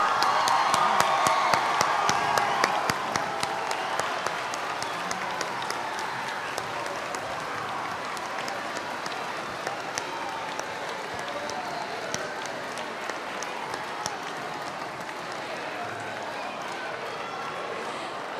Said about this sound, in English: please welcome the class of 2022 to high school with a big round of applause